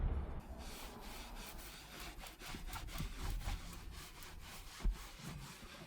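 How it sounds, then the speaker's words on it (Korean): A dry towel is rubbed repeatedly over a new car's fresh leather coating, giving close, steady rhythmic swishing and scrubbing strokes. "같이 들어있던 마른 타올을 이용해서 닦아보도록 할게요"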